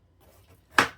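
A knife cuts through zucchini into chunks, one crisp close chop thudding onto the board after a brief quiet moment.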